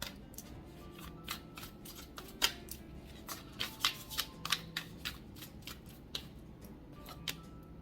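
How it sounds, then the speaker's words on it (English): Isis Oracle card deck being shuffled, producing a series of crisp riffling flicks and taps at an irregular rhythm, close and fairly quiet, with no talking. "I'm going to pull a card from the Isis Oracle deck"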